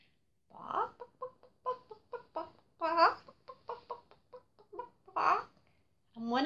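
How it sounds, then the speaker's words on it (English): A black hen clucks in a series of short, close, distinct calls with a few longer squawks, and the spacing is irregular. "she turned herself into a seed swallower, a black hen."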